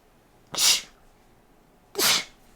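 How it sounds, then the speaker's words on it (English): Two sharp sneezes, close and loud, about a second and a half apart, with quiet in between and no talking. "I had to sneeze."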